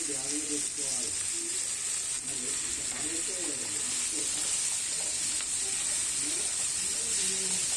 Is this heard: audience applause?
no